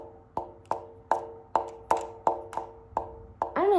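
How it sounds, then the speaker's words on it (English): Gel squeezed and handled by hand, giving about eight separate wet, squelchy plops at a fairly even pace, quiet and close, ending in a brief stretchy squish. "Why does gel sound like this?"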